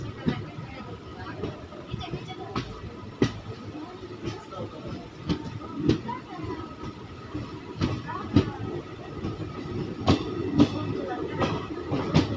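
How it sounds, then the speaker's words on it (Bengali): A daily passenger train pulling out of Old Malda Junction on the Malda Town to Katihar line, heard from inside with a steady low rumble and irregular wheel clicks and knocks, and faint voices in the carriage behind it. "একদম সঠিক সময়ে 1 মিনিট দাঁড়ানোর পরে আমাদের ট্রেন ছেড়ে দিল ওল্ড মালদা স্টেশন থেকে।"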